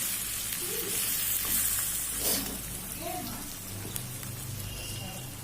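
Chicken cooking in a wok with a steady frying sizzle and occasional scraping stir strokes, continuous and close, with no talk.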